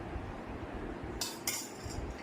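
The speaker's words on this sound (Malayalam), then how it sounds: "ഇത് ഇച്ചിരി തൈര് ഒടിഞ്ഞെടുക്കുവാണ് ഞാൻ" A spoon scooping curd onto a plate at home lunch, two quick metallic clinks against the dish over a steady background hiss, with no talking.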